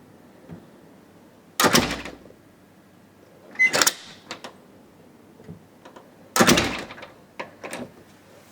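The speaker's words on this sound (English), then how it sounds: "let's open the door and see what happens" A door fitted with a thin Sensative Strips Z-Wave door sensor is opened, giving three separate clunking, rattling bursts of handling and latch noise between quieter gaps, close by with no talking.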